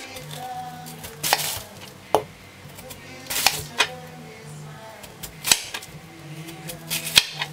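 A knife cuts through peeled yam on a board with about eight sharp, separate chops at irregular intervals, close and crisp, over a quiet background with no talk.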